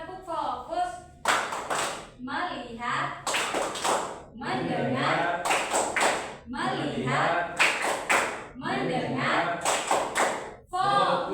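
A classroom group performs a rhythmic 'tepuk fokus' clapping routine during a microteaching lesson, with sharp clustered claps in patterned bursts alternating with voices chanting together.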